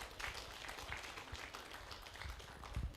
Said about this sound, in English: So let's appreciate them with a round of applause.